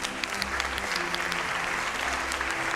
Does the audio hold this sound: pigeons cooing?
no